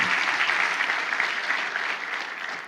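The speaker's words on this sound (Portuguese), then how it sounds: "Dê uma salva de palmas a Jesus." A church congregation gives a steady round of applause for Jesus, a dense, continuous clapping that holds evenly and eases slightly toward the end, with no talking over it.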